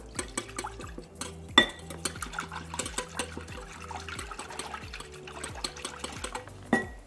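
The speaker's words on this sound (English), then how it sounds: "just about a 1/4 cup of milk, and I'm going to mix that up" Milk being mixed with an egg in a bowl for stuffing muffins, heard as repeated clinking utensil strokes against the bowl with light liquid sloshing, steady and close, with no talking.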